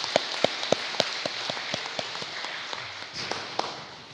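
Scattered applause at a centennial celebration, with individual claps popping out distinctly at a fairly regular pace over a soft background of hands, sounding faint and roomy rather than close.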